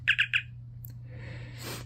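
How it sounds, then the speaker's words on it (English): Star Trek communicator replica chirping as it flips open: three quick bright electronic chirps, then a short higher blip and a softer rising warble over a low steady hum. "Not only does it chirp immediately when opened now, but it randomly chooses from 31 unique chirp patterns"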